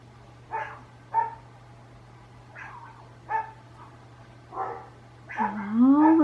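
Several dogs bark in short separate bursts at a distance, scattered yips and barks with a louder whining bark at the end over a steady low hum.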